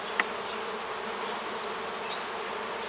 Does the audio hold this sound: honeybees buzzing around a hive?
yes